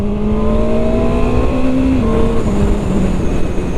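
A QJ Motor SRK 921 RR sport motorcycle engine accelerating in third gear: a loud, close, continuous tonal roar whose pitch climbs steadily with only brief dips, with no voices over it.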